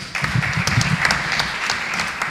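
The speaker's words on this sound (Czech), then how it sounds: "že můžete přivítat krátkým potleskem" A short burst of steady audience applause greets a guest at the opening press conference of the 63rd Zlín Film Festival, filling the room evenly from start to finish.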